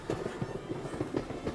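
Rail carriage on a long train ride, a rhythmic clickety-clack of wheels over rail joints, steady repeating thumps under a low rumble, moderately close with no voices.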